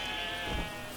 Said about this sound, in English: Oh, there's some sheep.